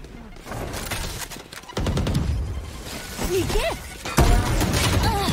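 Gunfire from the tactical shooter Valorant during a pro match, with bursts of shots and sharp impact cracks rising and falling across the clip, a loud crack near the end, all under an excited commentator's voice.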